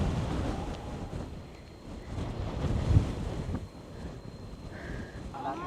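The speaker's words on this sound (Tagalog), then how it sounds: "Super windy." Strong wind buffets the microphone on a mountain summit, a steady low roar with gusts that stays loud and continuous throughout, with no clear voices over it.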